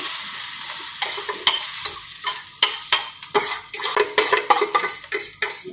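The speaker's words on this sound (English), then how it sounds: "See, it's starting to sizzle again." Eggs sizzle loudly in a hot pan, broken by repeated scraping strokes of a utensil stirring against the metal.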